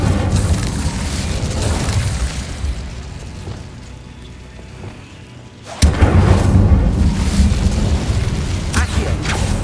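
A fire spell cast in Hogwarts Legacy: after a quieter stretch of ambient game rumble, a sudden loud whooshing burst erupts and sustains as a roaring, crackling blaze.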